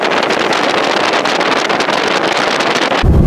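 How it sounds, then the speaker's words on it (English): Loud, constant wind buffeting the microphone while riding in a Volkswagen Thing, a rough roaring rumble with no voices, ending in a heavier low thump of gusting. "It's a little windy here."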